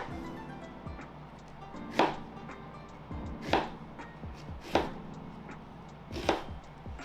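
A large whole onion is chopped on a cutting board, giving four evenly spaced knife thuds with crisp slicing sounds, close and fairly quiet over a low steady background hum.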